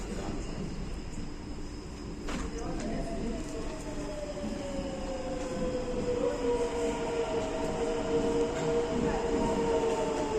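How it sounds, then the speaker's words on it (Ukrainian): Loud rumbling roar of a Rome metro train pulling into the station, with a long whining tone sliding downward as it slows; steady mechanical noise throughout. "Так, наше метро."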